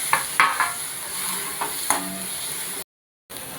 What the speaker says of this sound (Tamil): இஞ்சி பூண்டு வதங்கிருச்சு இப்போ இந்த தக்காளியையும் இதில் போட்டுக்கலாம்